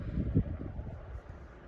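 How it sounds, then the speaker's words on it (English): Low, steady wind rumble buffeting the microphone, with gusty swells early on and no voices. "It's getting very windy here."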